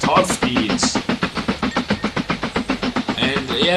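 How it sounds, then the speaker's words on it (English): Rapid, rhythmic chugging of a steam locomotive running at top speed in the video game Mashinky, steady puffs with hiss, with a voice faintly mixed in. "Running a steam engine train at top speed directly next to this houses."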